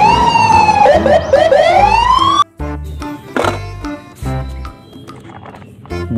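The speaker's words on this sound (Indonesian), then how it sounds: "Wow, mobil polisi." A wailing siren sweeps up and down for a couple of seconds, then gives way to clattering toy noises and short bursts of electronic sound.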